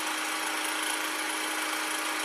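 A wood lathe spins a turned workpiece running true, giving a steady, continuous broadband whir with no breaks, close and fairly loud, with no voices.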